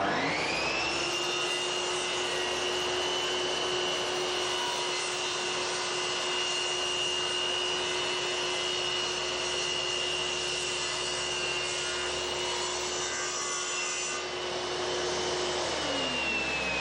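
A Triton Workcentre saw takes a light finishing rip through wood, its steady high whine and broadband cutting hiss running unbroken and close for about sixteen seconds before the blade note drops away at the end.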